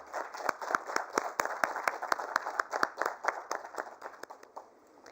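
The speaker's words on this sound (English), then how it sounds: "Can we have a round of applause for everybody?" An audience at a sanitation awards ceremony and conference applauds, sharp separate claps ringing out in a steady patter that rises and fades, with a few louder claps standing out over a thin room murmur.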